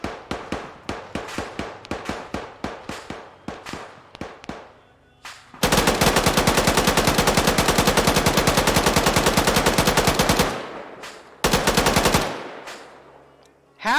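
Long bursts of LMG machine gun fire in a tactical shooter game, opening with a rapid run of separate loud shots, then a sustained unbroken burst, then a shorter final burst, loud and close.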